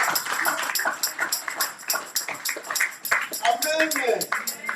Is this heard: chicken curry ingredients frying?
no